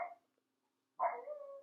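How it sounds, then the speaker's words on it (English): A dog indoors barks, one short bark and then a longer, drawn-out one after a quiet pause, fairly faint and heard alone. "Sorry, my dog's barking."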